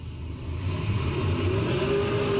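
Late model race cars roar and accelerate away at a restart during a feature race at Bunbury City and Regional Speedway, engine pitch climbing and growing louder over a couple of seconds.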